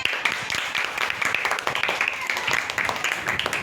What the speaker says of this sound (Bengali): তাইলে ওদের জন্য হাততালি